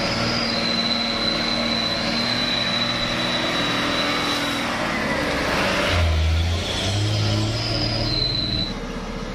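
A Hino truck loaded with coal strains uphill, its engine a loud, steady drone that carries on without a break for the whole stretch, with no talk over it.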